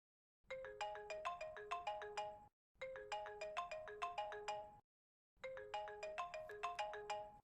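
A mobile phone ringtone plays a bright repeating melodic phrase three times in a row, each burst lasting about two seconds with short silent gaps between, clear and alone with no talking.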